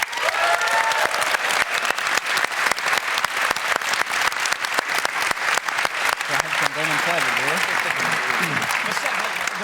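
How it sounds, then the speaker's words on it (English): Loud, sustained applause from an audience at The International 2019 Dota 2 tournament, filling the whole stretch, with a few voices and cheers rising underneath toward the end. "can we get a round of applause for Anna?"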